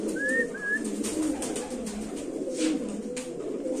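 Racer pigeons coo in low, throaty rolling calls, close and continuous, with a brief higher chirp near the start and no talking.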